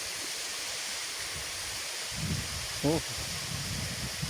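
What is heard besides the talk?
flowing water in a stream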